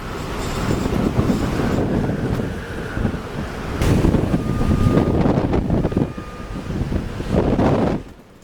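Gale-force wind buffets the microphone while heavy waves surge and crash around a cargo ship at sea, a loud continuous roar swelling and easing in gusts before dropping off abruptly at the end.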